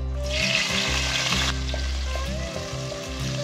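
Sliced onions, green chilies and spices fry in hot oil for an Andhra-style chicken fry biryani, a close, steady sizzle with scraping stirs and occasional bubbling pops.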